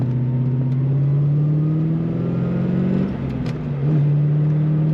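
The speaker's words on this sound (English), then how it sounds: "Strong throttle response from this car and a great exhaust note." A 1994 Chevrolet Corvette coupe engine hums steadily at low pitch with a throaty exhaust note, dipping briefly before surging back up as the throttle is pressed.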